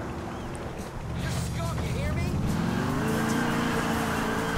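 A car in the video game GTA 4 drives with a steady engine drone that rises in pitch as it accelerates, heard continuously under someone talking.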